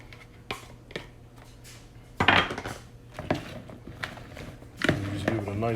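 Raw zucchini pieces tossed with butter in a bowl, giving a few scattered clatters and scrapes against the dish, with some louder bursts of shaking and brief talk in between.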